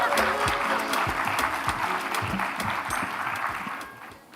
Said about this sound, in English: So let's cheer as she comes on stage.